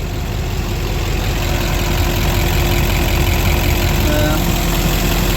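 An LBZ Duramax diesel truck engine idles steadily after a fuel filter change, a loud, close, continuous rumble with an even clatter.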